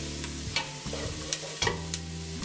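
Onions and dry chili sizzling in a pan, a steady frying hiss with several soft spoon scrapes and clinks spaced through the clip.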